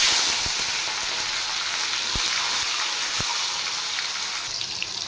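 Tomatoes hitting hot oil already spiced with whole dried red chillies, bay leaf and cumin seeds, giving a loud, steady sizzle and frying hiss with a few soft clicks of a spoon.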